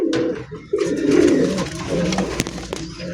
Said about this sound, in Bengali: দেখেন কত বড় কবুতর, প্রায় এক হাত কবুতর